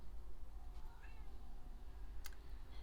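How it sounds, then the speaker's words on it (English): A house cat meows faintly in a room during a crochet and knitting podcast, a couple of soft, brief meows over steady low background hum. "Just a second, I have to get my cat out of the room."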